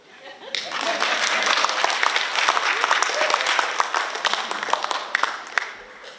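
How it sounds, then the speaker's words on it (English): A crowd at a graduation ceremony in Pohnpei claps together in a sustained, dense burst that rises fast, holds for several seconds and fades near the end. "Can we clap?"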